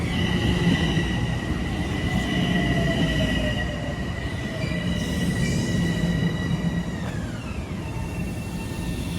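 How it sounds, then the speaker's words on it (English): A local Metro-North commuter train rumbles past Tuckahoe Station steadily with loud low rolling noise and high metallic wheel squeals that slide downward near the end; no talking. "There's the local train."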